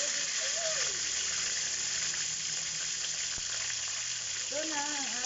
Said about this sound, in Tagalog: Prito na natin yung tilapia, guys. Ipiprito na natin ang tilapia.